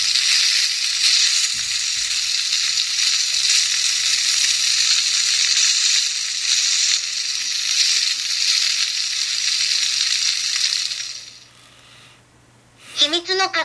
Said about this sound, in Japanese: 島豆腐と豚バラも入れて一緒に炒めます。